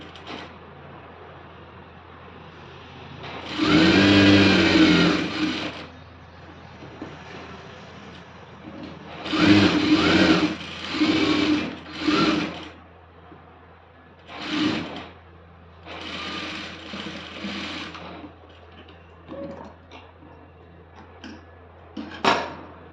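An electric sewing machine stitches a school uniform skirt in several separate runs. The first burst is long and whirring, followed by shorter starts and stops with quiet pauses between them.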